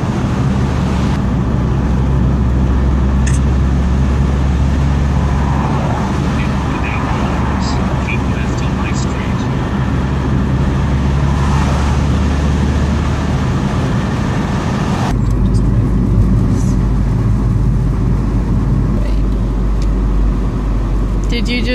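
Cars pass by on a street in a loud, continuous roar of traffic and road noise that swells and fades throughout, with people talking nearby.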